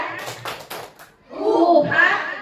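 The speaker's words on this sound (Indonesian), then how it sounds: "Tepuk PMM. Mengajar, belajar, berkarya." Teachers clap out the tepuk PMM chant in a group, a few sharp rhythmic claps up front followed by voices chanting together, fairly close and moderately loud.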